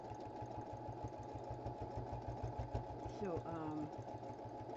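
A sewing machine stitches fabric with a steady, fast mechanical whir and rhythmic needle knocking, close by and continuous, while a person speaks briefly over it.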